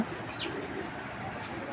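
A female pigeon offered for sale coos softly, a low murmur half-buried in steady background noise.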